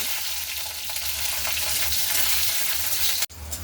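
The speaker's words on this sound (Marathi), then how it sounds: "आता आपण घेतलेल्या मिरच्या भाजून घेऊ." Green chillies fry in a ladle of oil in a kadhai, making a dense, loud, continuous sizzle close by that cuts off abruptly near the end and then resumes.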